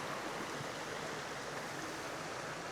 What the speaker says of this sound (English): Little creek running through.